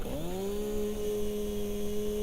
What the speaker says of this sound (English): I have to get the chainsaw out and cut some trees.